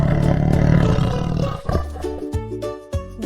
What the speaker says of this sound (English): Let's hear how the tiger sounds.